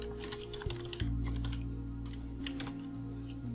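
Computer keys are pressed in quick succession on a keyboard, a rapid clatter of light clicks close by, over a low steady hum.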